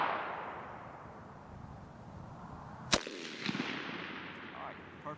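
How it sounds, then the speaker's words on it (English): A single rifle shot fired during marksmanship training gives one sharp, loud crack midway through, followed by a fading echo over a faint background hiss. "So go ahead and break your first shot, Sergeant Crotty."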